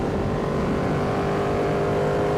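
A Ducati Panigale V2 motorcycle engine drones loudly and steadily at close range, a dense continuous roar with no talk.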